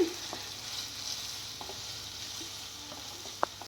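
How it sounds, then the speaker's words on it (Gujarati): Hakka noodles with vegetables are tossed and stirred in a hot pan using two spoons, giving a soft steady sizzle with scattered light scrapes and one sharper clink near the end, with no talking. "બે ચમચા લઈ અને સારી રીતે આવી રીતે આમ હલાવવાનું છે ઉપર નીચે કરવાનું છે"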